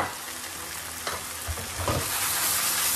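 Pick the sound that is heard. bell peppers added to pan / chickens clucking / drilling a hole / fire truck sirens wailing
bell peppers added to pan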